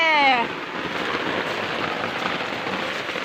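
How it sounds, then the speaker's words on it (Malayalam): Steady heavy rain pattering on a surface, a dense continuous hiss, with a brief voice at the very start. "ഇന്നലെ രാവിലെ മുതൽ നല്ല മഴയല്ലേ"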